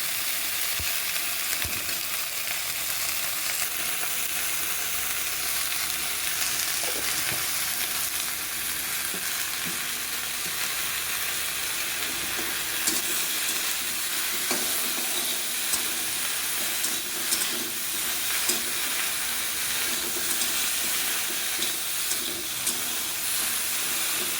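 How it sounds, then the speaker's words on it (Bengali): Okra frying in oil with salt and turmeric in a wok, a steady sizzle and hiss with occasional faint stirring scrapes, continuous and moderately quiet throughout. "আমি কড়াইতে তেল দিলাম, তারপর ভেন্ডিগুলি ছেড়ে দিলাম, একটু নুন দিয়ে একটু হলুদের সাথে একটু ভেজে নেব।"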